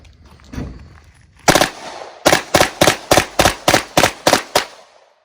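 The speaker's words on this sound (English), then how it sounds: "It's definitely strange doing 3-round bursts with a 20-round mag." A Beretta M93R burst-fire machine pistol with a 20-round magazine fires one sharp, loud shot, then a rapid string of about nine close reports in quick succession.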